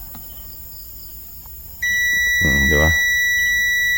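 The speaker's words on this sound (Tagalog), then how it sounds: "May buzzer naman yan eh." Continuity buzzer of a multimeter sounding while probing a 12V amplifier for a short: a steady, piercing electronic tone starts abruptly and holds continuously, with someone speaking briefly over it and low background hum.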